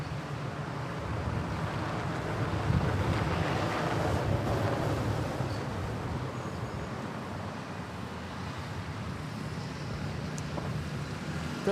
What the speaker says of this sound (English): Wind is strong today, guys. The wind is strong.